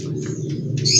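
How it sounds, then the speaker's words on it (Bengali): A pet bird gives short, close squawking calls over a low hum, with a sharper burst at the end. "পাখিটার কাছে যাও।"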